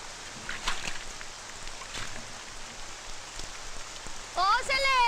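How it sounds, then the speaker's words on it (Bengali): Steady rain falls outdoors as a broad, even hiss with scattered drop hits, close and moderately loud throughout, with a brief rising whistle-like sound near the end. "বৃষ্টি পড়ছে।"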